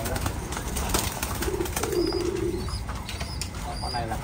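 Thai Titan pigeons at a breeding loft give soft low coos with occasional wing flaps, set against steady background noise and a faint voice.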